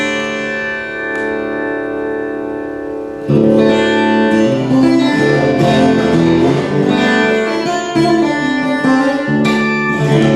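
Acoustic guitar with microphone and pickup blended, a sustained ringing chord that gives way to busy percussive playing mixing taps and slaps on the body with strummed and picked notes, close and full, no talking.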